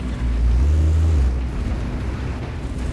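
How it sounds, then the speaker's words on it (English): A Leopard tank's engine in a video game rumbles as a deep, continuous low drone, loudest early on and then settling into a steady, moderately close hum with wind-like noise over it. "I hear the Leopard's engine and see him over the rock"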